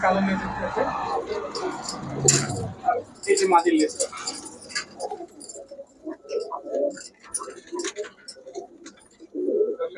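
Pakistani pigeons at a market coo repeatedly, close and fairly loud, with someone talking over and between the calls.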